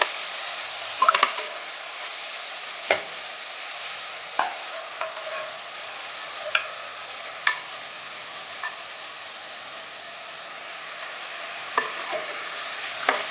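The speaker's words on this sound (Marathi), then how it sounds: "आता मी आता मटण टाकत आहे कांदा झालाय आहे फ्राय" Mutton fries with onions in a pan under a soft, low sizzle, punctuated by sharp taps and scrapes of a spoon against the pan at irregular intervals.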